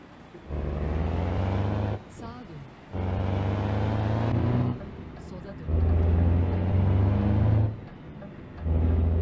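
A Ford Cargo truck engine in Euro Truck Simulator 2 drones deep and loud in sustained stretches, cutting out briefly between them, with a low rumbling hum throughout.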